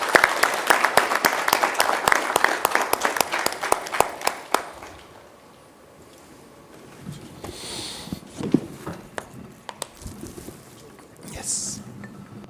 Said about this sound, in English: A big round of applause for.